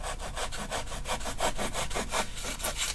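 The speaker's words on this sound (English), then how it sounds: "the piece of foam needs to be cut to fit right inside here. So I can do it with a hacksaw blade." A hacksaw blade cuts through a piece of foam in quick, even back-and-forth strokes, a close rhythmic rasping that repeats steadily throughout.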